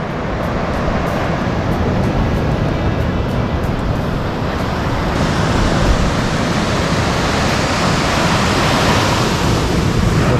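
Ocean surf rolls in on a beach at a sleepy Mexican beach town, a loud, close, continuous wash of breaking water that swells slightly midway, with no talking.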